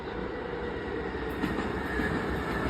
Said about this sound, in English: There's our high-speed train, the Estella Express, on its way from New York to Boston.